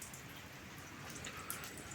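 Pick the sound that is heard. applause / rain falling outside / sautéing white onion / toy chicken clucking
rain falling outside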